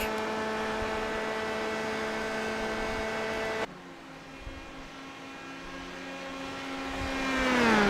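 A racing car circles the Indianapolis banking on the old Formula One layout in an open-wheel racing video game, its engine a steady high drone that drops abruptly with a gear change, then climbs again in pitch, with no voices.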